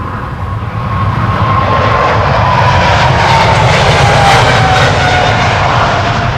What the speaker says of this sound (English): an E2 Embraer 195 to London Heathrow